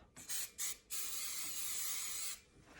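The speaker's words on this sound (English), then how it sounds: "spray a little bit of hairspray, let it dry" Short bursts of a small travel-size hairspray can misted onto charcoal drawing paper: two quick hissing puffs, then one long steady spray lasting over a second, close and fairly soft, with no talking.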